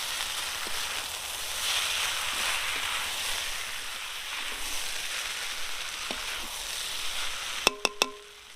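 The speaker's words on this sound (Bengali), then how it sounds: "পেঁয়াজ আর ক্যাপসিকাম দিয়ে ভালো করে ভেজে নিয়েছি এখন চাউমিনগুলো দিয়ে দেবো" Chicken chow mein with onion and capsicum sizzles steadily in a pan in a village-style kitchen, a continuous close hiss, with a few sharp metallic clinks near the end.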